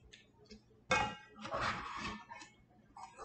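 A metal spatula clangs against a cooking pan while sausage and egg are made, with one sharp loud clang followed by a burst of scraping and clattering, then lighter clinks amid quiet kitchen noise.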